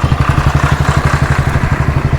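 Tractors passing one after another along a town road near a crossroads, their engines chugging in a loud, steady, rapid thumping rhythm close by.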